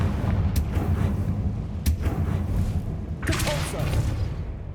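Confringo explosive spell blasts in Hogwarts Legacy, three sharp bursts, each a crack with a rumbling boom tail, spaced a second or more apart over a dense low game background.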